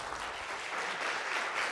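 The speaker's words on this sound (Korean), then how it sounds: "여러분 큰 박수로 환영해 주시기 바랍니다" An audience at an event applauds to welcome a speaker to the stage, a dense, even patter of many hands clapping at moderate volume with no speech over it.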